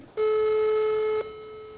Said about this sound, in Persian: صدای تلفن میاد